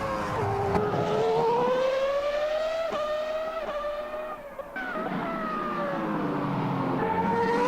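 F1 2021 racing game car engine heard from outside, a loud high-pitched whine rising and falling through gear changes as the car accelerates, with a short dip near the middle, steady and alone with no talk.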